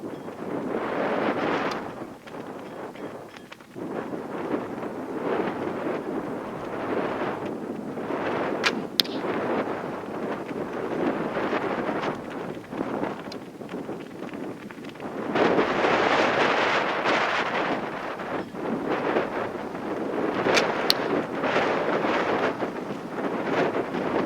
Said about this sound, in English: The wind is just it's kind of shifting from behind me to from my left